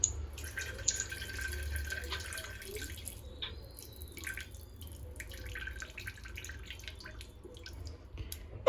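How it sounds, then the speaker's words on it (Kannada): Water left from rinsing rice is poured out in a faint, thin trickle with scattered drips. It stays low and steady, with no voices. "ಆ ನೀರನ್ನ ಇವಾಗ ಚೆಲ್ತಾ ಇದ್ದೀನಿ"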